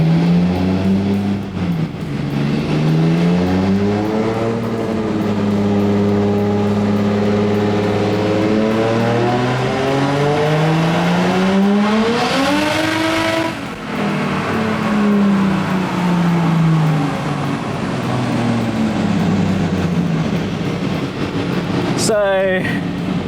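A Toyota Supra drift car's engine revs during a power run, its tone climbing and falling in long sweeps with steady loud droning throughout, close and continuous, ending in a sharp burst.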